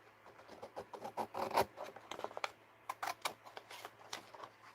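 Scrap paper being cut for a handmade journal page, giving a run of short, close crisp snips and rustles with uneven pauses between them.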